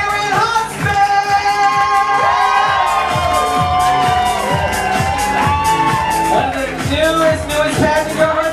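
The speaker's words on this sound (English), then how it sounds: "Keep your hands clapping for Sharon Huntsman." A crowd at a drag show cheers, whoops and shouts loudly and continuously, with high voices and claps mixed into a dense roar and tonal squeals from music or voices running through it.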